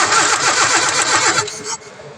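An EFI car engine cranks on its starter during a compression test, with a compression tester fitted in a spark plug hole. The starter whirs loud and close in a fast, rhythmic chug before winding down.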